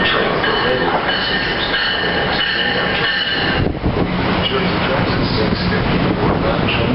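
An NJ Transit train at Secaucus Junction station makes a loud, continuous rumble of rolling railcars with wheel squeal and rattling. A shift in the noise comes about halfway through, and station announcements run faintly beneath.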